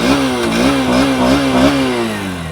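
A Honda Hornet 2.0 or CB 200X motorcycle engine is revved repeatedly up close, its exhaust note rising and falling in several quick throttle blips before easing back toward idle.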